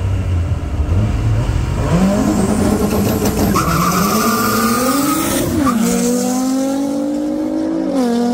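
A Mitsubishi Evo and a Nissan GT-R street race, engines revving loudly and climbing in pitch through the gears, with a sharp shift and tire noise partway through, close and continuous.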